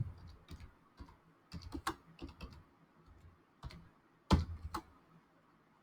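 Typing on a computer keyboard, close and quiet, with irregular bursts of clicking keystrokes separated by short pauses and a sharper tap at the end.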